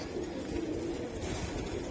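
Giribaz pigeons, including an Iranian female, coo in a steady low droning rumble, close and continuous with no voices.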